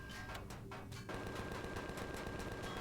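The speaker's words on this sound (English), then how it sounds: "hopefully I should be able to shoot the core from here" Gunfire in the Empyrion game as a weapon shoots at a core, a steady dense burst of rapid shots filling the clip, sharper and louder after the first second.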